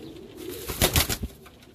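A racing pigeon, soaked after a 360 km race in Madrid, Spain, gives a short, close, throaty coo of a few soft pulses against quiet outdoor background.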